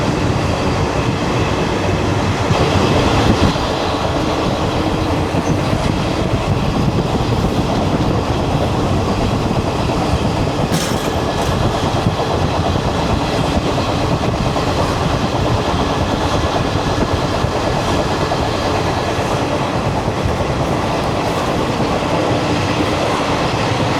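A Mysuru–Madar special train runs on the line toward Rayadurg, a loud, continuous on-board rumble with rhythmic wheel clatter over the rails for the whole stretch.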